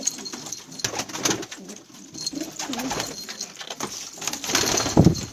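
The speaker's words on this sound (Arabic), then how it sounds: "حمام كلها حلوة وقوية." Several Syrian pigeons coo steadily at close range in a loft, their soft throaty calls layered over rustling and faint background clatter.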